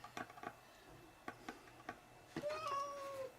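A house cat meows several times, a drawn-out whiny call near the end, after a few short ticking taps, close and fairly quiet.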